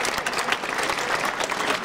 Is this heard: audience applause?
yes